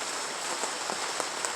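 Rain falls steadily on a greenhouse built from PVC pipe, a dense close patter of drops with scattered louder individual hits.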